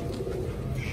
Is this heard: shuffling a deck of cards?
no